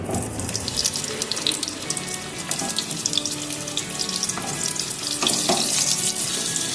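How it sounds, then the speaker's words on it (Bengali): Pointed gourd fries in hot mustard oil in a kadai, making a loud, continuous sizzling hiss with scattered crackles throughout. "কড়াইয়ে দিলাম সরিষার তেল, এবারে একে একে পটলগুলো ছেড়ে দেবো।"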